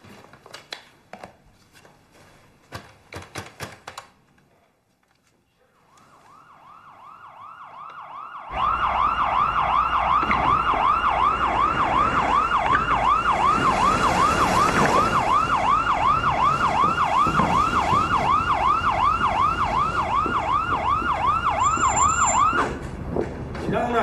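A loud ambulance siren wails in a steady, rapid rising-and-falling cycle for about fifteen seconds, called to a company where a security guard was injured in a police crime drama; scattered clatter and a quiet stretch come first.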